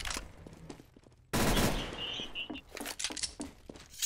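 Rapid automatic gunfire in the video game CS:GO, a loud sudden burst followed by scattered shots and clicks, after a quieter stretch of softer game sounds.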